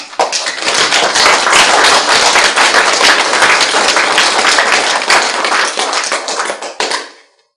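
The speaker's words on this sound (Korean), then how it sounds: "박수라도 쳐라!" A lecture audience at a Buddhist talk on the Diamond Sutra breaks into loud, dense clapping that holds steady for about seven seconds, then tapers off abruptly.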